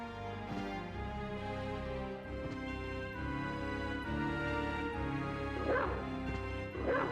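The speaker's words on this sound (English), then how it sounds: "Bark, bark." A dog yips and barks in quick bursts over a busy, tonal backdrop with music, its calls fairly close and mixed into the sound rather than standing alone.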